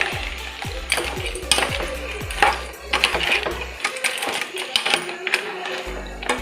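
Crab is stirred into a tempering in a pan for coastal-style crab sukka. A spoon scrapes and clinks against the metal again and again over a low frying sizzle, close and lively.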